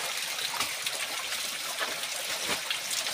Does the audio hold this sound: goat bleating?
no